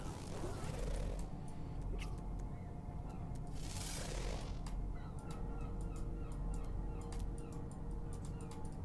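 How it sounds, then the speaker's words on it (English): Bird calling in the video game No Man's Sky, a few short chirps and clucks over a constant low ambient game drone, fairly faint. "There's a bird though."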